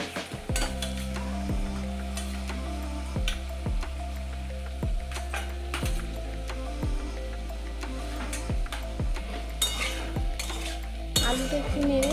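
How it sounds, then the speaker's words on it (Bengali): Potatoes go into fried masala in a pan, followed by a long run of regular spoon scrapes and knocks against the metal over a soft, steady sizzle, close by. "এবার আলুটা ভাবছি দিয়ে দেবো।"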